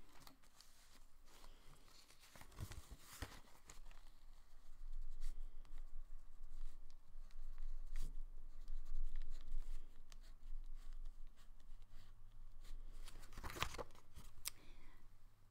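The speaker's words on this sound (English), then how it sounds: "So I'm going to draw those on my buttons." Pen or marker strokes drawing thread lines across paper craft buttons for a scarecrow: soft, scratchy scribbling with scattered taps and paper rustles, quiet and close, no talking.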